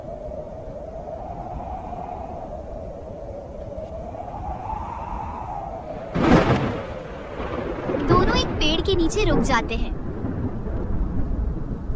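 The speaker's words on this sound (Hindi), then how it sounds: "बारिश तो बहुत तेज आ गई है। मौसम बहुत खराब हो गया है।" Heavy rain with thunder during a storm, a constant rain hiss under narration, with a loud thunder crash midway and another rumble soon after, while voices speak over it.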